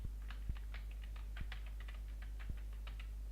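Quiet, close keystrokes on a computer keyboard come in irregular bursts of light clicks, with a few heavier taps standing out.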